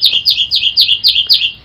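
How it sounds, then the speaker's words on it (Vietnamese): Birds chirp in a garden: six quick, bright, evenly spaced calls, close and clear against a quiet background. "Ngoài vườn á, chim hót líu lo suốt ngày luôn."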